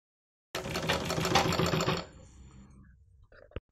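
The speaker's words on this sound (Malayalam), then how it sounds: "ഉള്ളിലേക്ക് മടക്കി വെച്ചിട്ട് നെക്കിൻ്റെ നല്ല വശം അടിക്കാം." A sewing machine runs in one steady, fast stitching burst for about a second and a half while a boat neck is sewn on a blouse, then stops, followed by a faint click and quiet handling.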